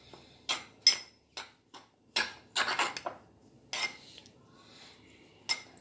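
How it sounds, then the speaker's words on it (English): Eggless brownie batter being mixed in a bowl, with a utensil tapping and scraping the sides in irregular clinks and short bursts, close and fairly quiet, no talking. "Then I'm going to mix it again."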